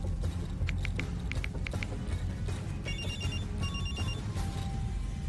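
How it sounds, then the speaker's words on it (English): A telephone rings in short repeated bursts of bright tones during a call, with a faint background murmur and a few clicks. "He pulled out his phone and called Isla."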